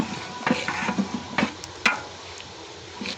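A spoon stirs food in a cooking pot at a rooftop picnic, making a few close scraping strokes and knocks against the metal in an uneven rhythm.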